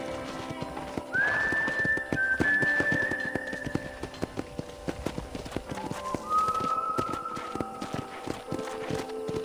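Hooves clip-clop in a steady walking rhythm near a ranch corral in Red Dead Redemption, with two long whistle-like tones over the top.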